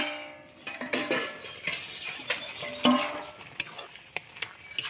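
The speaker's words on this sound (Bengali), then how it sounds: "চাপাটা খুলে দেখব মোচাটা কতটা সিদ্ধ হলো।" A pot lid is lifted off boiling banana flower (mocha) cooking for a vegetarian Bengali dish, giving scattered metallic clinks and clatters of lid and cookware over a steady bubbling hiss, close and moderately loud.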